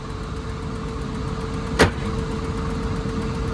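A mini bus engine idling after a cold start at minus 50 in harsh Canadian winter, a steady close rumble with a constant hum and one brief click partway through, no voices.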